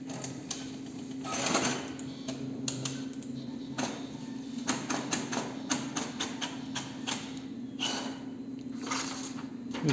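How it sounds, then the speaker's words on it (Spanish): Brother DCP-T520W inkjet printer printing a test page, with whirring feed motors, clicks and rattling print-head passes in bursts over a constant hum, close and fairly loud, no talking. "vamos a imprimir una página de prueba así."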